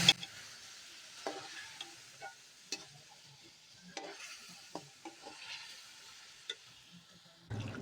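Spice paste and yogurt are stirred and fried in a pan for a chicken karahi: a steady low sizzle runs throughout, broken by scattered scraping strokes of a spoon against the pan, with no talk.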